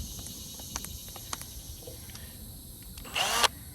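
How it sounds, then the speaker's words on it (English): A few light taps and clicks, then a short, close burst of a power drill whirring with a sanding cone screwed on before it stops. "you just take the cone and just screw it on to your drill"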